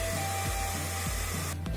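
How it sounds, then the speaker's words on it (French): A hair dryer blows hot air to dry paint on fabric, a constant loud whooshing hum with soft periodic bumps as it is moved, cutting off near the end. "J'ai trouvé un sèche-cheveux."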